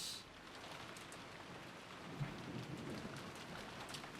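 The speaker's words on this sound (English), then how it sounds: "A storm was over Kinjima." Steady rain and thunderstorm ambience from the visual novel Umineko Saku, a dense even hiss of rainfall with a soft low rumble swelling midway, no voices.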